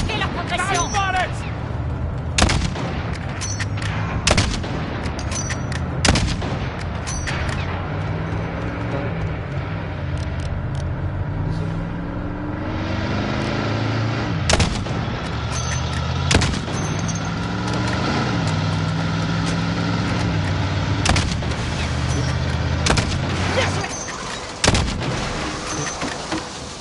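Video game gunfire with repeated loud sharp shots scattered irregularly through a busy battle soundscape of rumbling effects, with a player talking over it.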